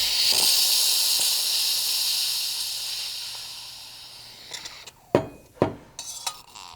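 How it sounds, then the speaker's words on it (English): A Breville Bambino espresso machine's steam wand is purged with a steady, bright hiss that fades over several seconds. A few clinks of metal and dishes follow near the end. "I'm gonna hit my steam, do a little bit of a purge beforehand"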